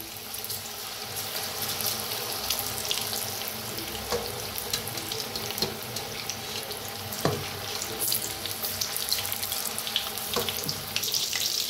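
Chana koli vada batter frying in hot oil, a steady close crackle and hiss with scattered sharper pops throughout and no talking over it.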